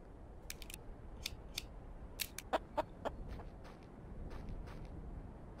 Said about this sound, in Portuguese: Ô louco, o tiro não pega na galinha